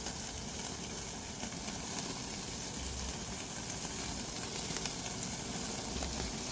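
Wagyu beef frying in a pan, giving a steady, soft, even sizzle that crackles faintly throughout.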